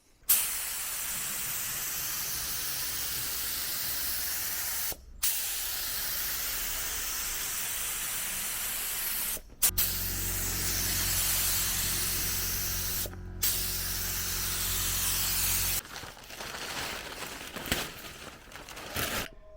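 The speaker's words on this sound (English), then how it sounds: "my amateur attempt at clear coating the bonnet" Long hissing bursts of a spray gun applying clear coat to a classic VW Beetle bonnet, several sustained passes separated by brief pauses, with a low compressor hum running underneath.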